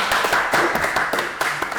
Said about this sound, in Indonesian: Boleh dikasih tepuk tangannya dulu